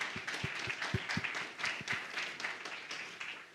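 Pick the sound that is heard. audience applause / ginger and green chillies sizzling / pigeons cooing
audience applause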